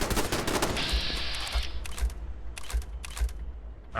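Rapid bursts of gunfire during a firefight against gunners in a modded Fallout 4, sounding as repeated sharp shots and clattering volleys with a sustained hiss partway through, fairly close.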